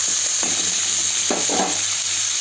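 Chicken curry simmers in a pan with a steady frying hiss, broken by a few soft bubbling pops and brief stirring scrapes, close and even throughout.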